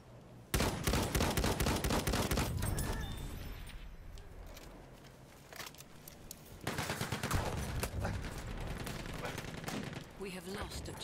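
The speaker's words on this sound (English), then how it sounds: "Enemy machine gun sighted." Sustained machine gun fire in Battlefield 1 at Zeebrugge, loud rapid bursts running almost the whole time with a short lull in the middle before firing resumes, mixed with other battlefield gunfire.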